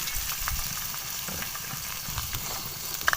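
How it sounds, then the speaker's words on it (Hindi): Shredded cabbage hits two tablespoons of hot oil in a wok and sizzles steadily, with soft stirring scrapes and a couple of sharp utensil clinks near the end. "कढ़ाई में मैंने 2 टेबलस्पून ऑयल डाला है। ऑयल गर्म है, इसके अंदर डाल देते हैं बंद गोभी।"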